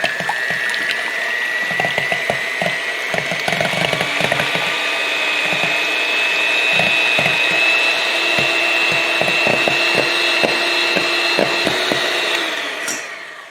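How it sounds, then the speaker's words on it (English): An electric mixer whirs steadily as it beats plain egg whites for banana pudding, a high constant whine running with rapid clicking and rattling of the beaters against the bowl before it winds down at the end. "we're just going to start with beating the egg whites alone"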